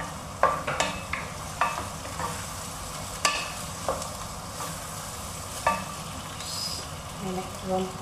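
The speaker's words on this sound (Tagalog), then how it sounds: "Papupulahin lang po natin ang hipon." Shrimp sizzle in a hot pan while a utensil stirs and scrapes, with a steady frying hiss broken by sharp clinks against the pan.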